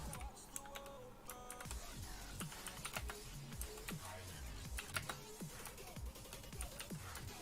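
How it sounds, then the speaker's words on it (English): Steady, close typing on a computer keyboard, with rapid clicky keystrokes and occasional heavier key hits, no voices. "How loud is the keyboard for you guys?"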